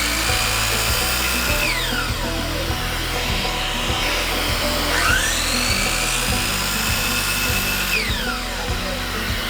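Miter saw repeatedly cutting a wood strip at a 30-degree angle, loud rising and falling whine as the blade spins up and down several times in a steady run of cuts.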